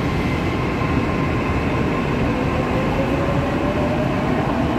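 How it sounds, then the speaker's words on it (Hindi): A Mumbai metro train pulls away from the platform with a loud, steady rumble and rolling rail noise, a thin whine rising through it. "Bye bye metro bye."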